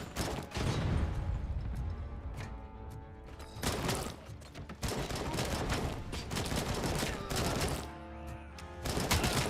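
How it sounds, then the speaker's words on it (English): Punchy headshot impacts and gunfire from the RoboCop: Rogue City video game crack out in repeated loud bursts over dense game action and music, with a voice talking at moments. "It's that punchy RoboCop headshot sound."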